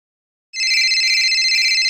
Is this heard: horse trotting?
no